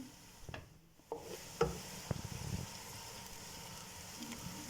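Onions frying golden in a pan for a pressure-cooker nihari give off a faint, steady sizzle, broken by a few soft stirring knocks and scrapes; no voices.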